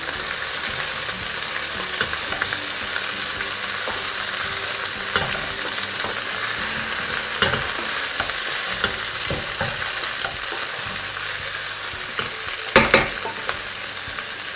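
Potatoes for an alu chole chaat frying in a pan, a steady close sizzle with occasional stirring and turning clatter, louder pan knocks near the end, with no talking.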